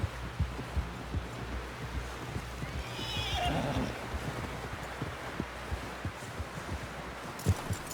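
A horse in Red Dead Redemption II whinnies once in the middle over a steady rhythm of hoofbeats, with soft rustling and a faint voice in the background.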